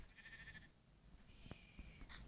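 Faint bleating of sheep in a video game, a short wavering call followed by another, over low background noise.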